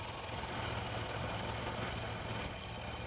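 Bowl gouge turning a maple bowl on a lathe, flattening the bottom: a steady, fairly quiet whirring drone of the spinning lathe with a continuous low rumble and a gritty cutting hiss, unbroken for the whole stretch.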